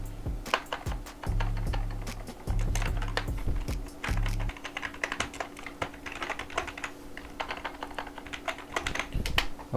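Rapid clacking keystrokes on a computer keyboard, steady bursts of close, crisp taps with short pauses, heard alone over a low electrical hum.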